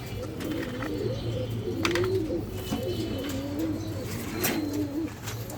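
Gorgori pigeons at a pigeon farm in Mirpur, Dhaka, coo in a steady, rolling chorus of soft, close calls, with a constant low hum underneath and no talking.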